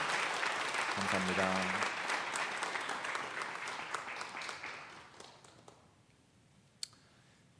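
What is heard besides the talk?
church congregation applauding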